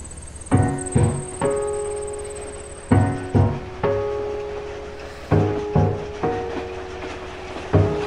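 A train moving in the video game Old Man's Journey, heard as a series of clattering, clickety-clack bursts that recur in irregular pairs across the clip, each with a ringing metallic tail, and a faint high hiss above them.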